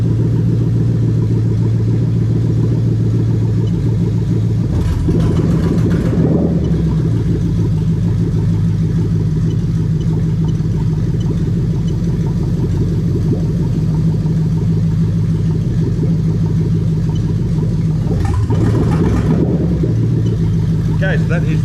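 A Lexus IS300 with a swapped-in LS V8 runs steadily at idle during a bank 1 oil control valve active test, with two brief changes in engine note along the way and a continuous low hum throughout.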